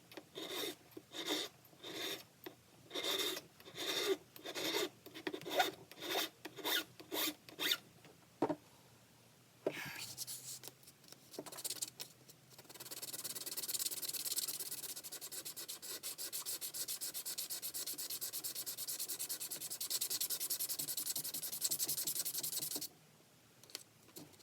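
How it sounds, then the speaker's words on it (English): Hand file rasping across a bi-metal jewellery piece for earrings, first in a series of short rhythmic strokes, then a long steady stretch of continuous close scraping before it stops. "Start with some filing again because I learned from last time I need to start out pretty aggressively."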